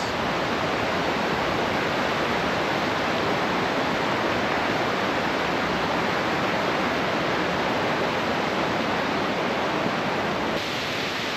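Reese Falls, a cascading waterfall on the South Fork of the West Fork of the Gallatin River, roars steadily and loudly close by, a dense unbroken rush of falling water with no voices.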